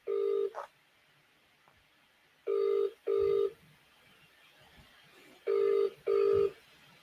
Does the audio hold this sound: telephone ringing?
yes